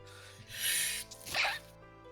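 A single quick sneeze bursts out over a faint background hum, sharp and breathy, fading into quiet.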